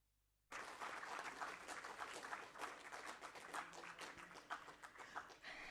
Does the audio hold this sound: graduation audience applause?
yes